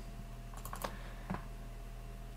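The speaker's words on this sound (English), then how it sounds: "what I can do here is type in that value for the date, November 11th" Computer keyboard typing while a date value is entered into a spreadsheet calendar: a few soft, quick key clicks in two small clusters, faint over a quiet steady hum.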